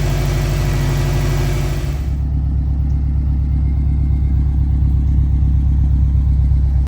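A Subaru engine idles steadily on a morning warm-up with a low, even rumble and a faint rhythmic clatter, continuous throughout with no talking.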